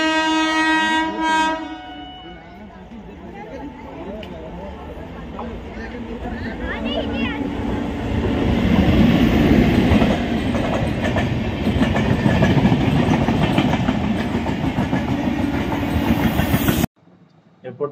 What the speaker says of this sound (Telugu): సో ఇప్పుడు కొద్దిసేపట్లో ట్రైన్ రాబోతుంది,